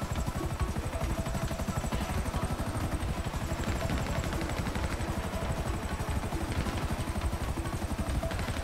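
A helicopter in the GTA V Online video game gives a loud, steady, rapid chopping of rotor blades that continues throughout with no voices over it.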